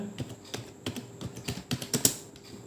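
Close, crisp clicks of typing on a computer keyboard come in quick irregular strokes, with a small burst of faster taps near the end and no talking.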